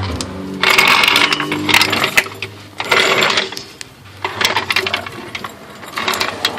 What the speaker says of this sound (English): We got to find a place to put our jack stand as well. So jack stand's probably going to go up front here.